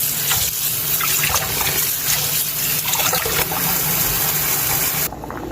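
Rice being washed in water for Jamaican rice and peas, with a steady, close swishing and running-water sound from a sink that continues without talk and drops slightly at the very end.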